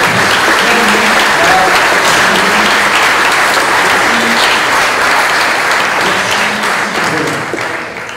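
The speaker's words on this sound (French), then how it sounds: "un dernier applaudissement pour eux" Sustained, loud applause from a large crowd at a conference opening, dense clapping that holds steady and then starts to fade near the end.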